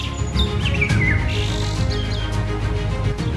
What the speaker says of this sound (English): a lone bird calls through the mangrove dusk